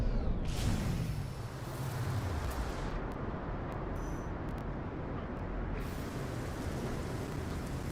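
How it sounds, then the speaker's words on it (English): A heavy rainstorm with rolling thunder on a planet in No Man's Sky, a dense roaring hiss of rain with a deep rumble sweeping through early on, continuous and loud with no voices. "Storm clearing."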